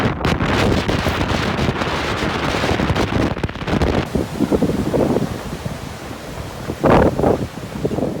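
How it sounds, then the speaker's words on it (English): Strong storm wind blowing straight off the North Sea onto an old lighthouse balcony on England's east coast, roaring loud and close with heavy gusting buffets against the microphone throughout, surging again near the end. "The wind is just coming straight off the sea,"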